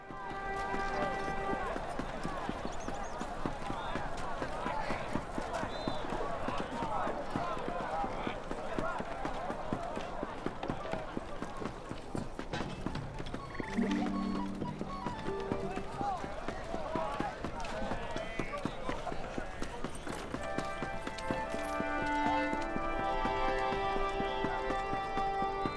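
Horse hooves beat a rapid, steady clip-clop gallop while riding in the fantasy online game LOTRO, running continuously under game music and occasional talk.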